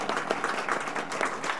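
A church congregation in Korea applauds a newlywed couple during a Sunday service, a dense, even wash of many hands clapping together, moderately loud and steady throughout.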